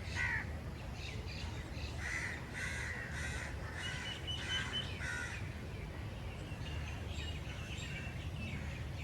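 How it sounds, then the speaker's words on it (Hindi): Crows caw repeatedly among other bird calls outdoors, faint and somewhat distant over a steady background hiss, with no one talking. "देख सकते हैं कितनी खूबसूरत परिंदों की आवाज़ें आ रही हैं।"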